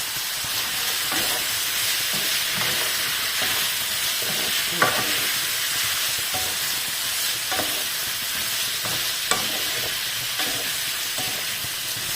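Sausage sizzles steadily while toasting in a pan, a constant bright hiss of frying fat broken by scattered scraping clicks and occasional sharp pops.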